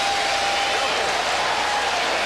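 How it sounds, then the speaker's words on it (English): A boxing arena crowd in Connecticut at the 1998 heavyweight fight between Lennox Lewis and Zeljko Mavrovic applauds and cheers after a round, a loud, steady broadband roar with no break. "Crowd-pleasing round for Yelena Balabanec"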